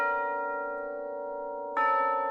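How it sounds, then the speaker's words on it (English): Tubular bells from a synth preset in a music mix, a sustained ringing strike decaying slowly, then a second strike rings out near the end, clean and alone. "And then we have the tube bells, which switch up a little bit."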